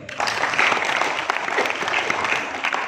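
An audience at an evening gathering of a Karang Taruna youth group with the Mojokerto regent breaks into applause. The clapping rises quickly and stays full and busy throughout, with some uneven bursts.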